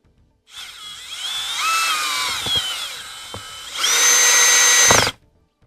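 A power drill drives screws into a house exterior in two loud close bursts, whining up in pitch as the motor spins, with a brief pause and a few light clicks between them, then stopping abruptly.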